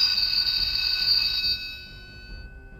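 A telephone bell rings in a Fireman Sam cartoon, a bright rapid trill lasting about a second and a half before cutting off, with faint background noise and no speech.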